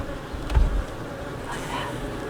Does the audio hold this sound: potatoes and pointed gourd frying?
no